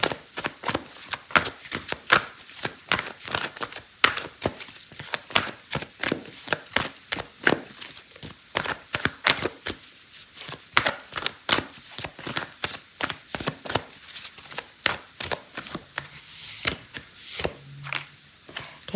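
Oracle cards shuffled by hand, a steady run of quick crisp riffling slaps repeating for a long stretch, close and fairly quiet with no talk.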